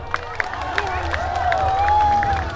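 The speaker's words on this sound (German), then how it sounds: "Natürlich nehmen wir einen Applaus für Georg!" A crowd at a knights' tournament show at Schloss Thurn amusement park applauds and cheers for a knight, steady clapping and a few whistles rising under a loud announcer's voice.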